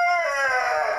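An Orloff hen gives a short, high, tonal call close to the microphone, a single drawn-out note with no talk over it.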